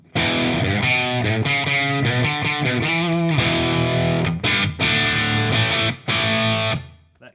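A heavily overdriven electric guitar through a modified Marshall 2204 tube amp and 1987 cabinet with room reverb plays loud, sustained rock chords and riffs with short gaps, thick and saturated.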